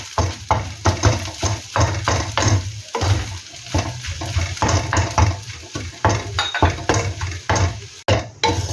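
A utensil stirs chao fan fried rice in a hot pan, making loud, close, repeated scraping strokes over a steady sizzle.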